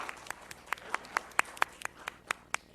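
Sparse applause from a small group at a West Covina city council meeting, individual hand claps landing unevenly and moderately close for a few seconds, no talking over it.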